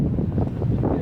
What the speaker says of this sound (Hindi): इसी के साथ काफ़ी तेज़ हवाएं चलती हुई।